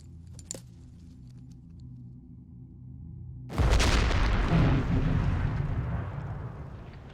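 A grenade explosion from a French-dubbed action film hits suddenly partway through, a loud low boom after a quiet stretch with a brief metallic clink, then a rumbling roar that slowly tails off.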